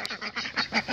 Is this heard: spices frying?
no